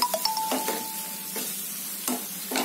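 Capsicum frying in a pan on a medium flame, a soft sizzle broken by several sharp spatula scrapes and clinks against the pan.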